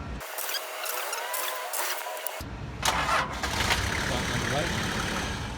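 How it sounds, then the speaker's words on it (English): A Toyota Land Cruiser at a Canadian mine, its battery dead flat, jump-started with a HYPASTART X2500 capacitor jump pack: a steady cranking whir, then the engine catches and settles into a loud, rough idle. "Toyota Land Cruiser, Canadian mine, battery dead flat, start number 3."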